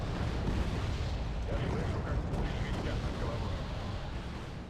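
Tank cannon fire from a T-72 in the war game Wargame: Red Dragon, a dense continuous rumble of heavy booms and blasts mixed with other battle noise, loud and steady throughout.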